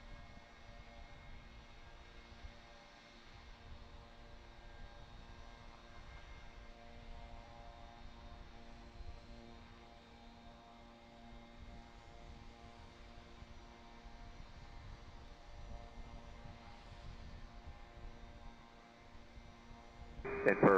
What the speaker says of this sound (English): So we get the C-5 coming in for about the 9th time.